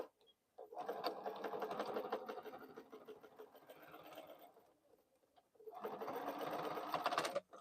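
A sewing machine stitches at a steady rhythm in two long runs, slowing to a softer pass in the middle and pausing briefly before it speeds up again.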